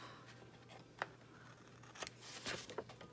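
Scissors trimming excess paper from a vintage junk journal page: a few faint, quiet snips spaced about half a second apart near the end, with soft paper rustle and low room hum.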